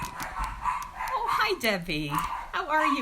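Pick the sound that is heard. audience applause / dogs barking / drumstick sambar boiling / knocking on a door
dogs barking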